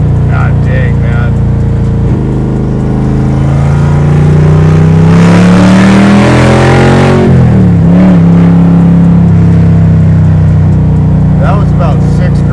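A 1,000-horsepower Dodge Charger with a Hellephant engine revs hard and close, its roar climbing steeply in pitch, peaking, then dropping back to a deep rumble, with people talking and exclaiming faintly underneath.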